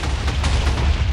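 Rapid, dense bursts of explosions from a lagging video game adventure map, booming continuously and loudly with overlapping impacts and no pauses.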